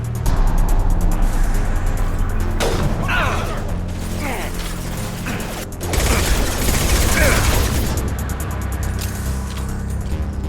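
Gunfire in the Mass Effect 2 video game, bursts of rapid shots and mechanical clatter under a loud, dense game soundscape, with bursts clustered through the middle.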